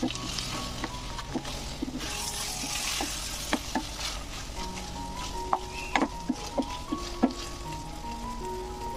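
Chittagong-style kala bhuna beef fries in a pan with a steady, close sizzle, broken by repeated scraping and clacking strokes as it is stirred, with no talking.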